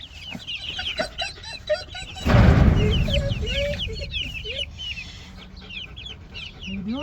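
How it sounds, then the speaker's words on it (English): Chickens and a small rooster in an outdoor bird box, a pen for poultry, clucking and chirping repeatedly at close range, with a burst of louder rustling and flapping partway through, then scattered clucks continuing. "So we got all the new chickens out here in the bird box."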